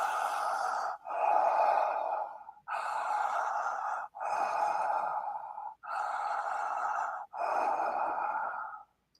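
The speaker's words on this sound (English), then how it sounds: "a connected breath through the mouth, and connected means that there are no gaps between the inhale and the exhale." Continuous mouth breathing in connected breathwork, six long breath cycles with no pauses between inhale and exhale, close and loud, each breath a broad rushing airflow.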